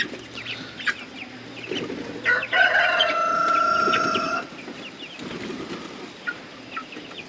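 Several chickens on a farm cluck and chatter close by, with a rooster crowing loudly partway through over a background of soft scratching and movement.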